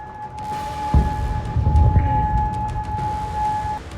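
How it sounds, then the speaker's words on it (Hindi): A missile alert siren sounds in Bahrain as one steady, unbroken tone that holds for several seconds, with low rumbling thuds beneath it. "बहरीन में सुबह से ही मिसाइल अलर्ट के सायरन गूंज रहे हैं।"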